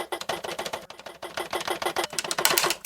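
A toy keyboard's built-in drum sound plays through its small speakers, a quick run of sharp, evenly spaced hits that grow brighter and louder near the end, alone with no talking.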